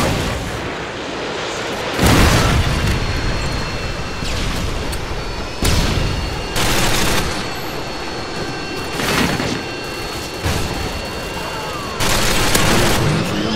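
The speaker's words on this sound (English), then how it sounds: "Friendly Predator missile incoming." Heavy explosions and artillery-like booms from a Predator missile strike in Call of Duty: Modern Warfare 2 team deathmatch multiplayer, several loud blasts arriving roughly every few seconds over dense continuous battle noise.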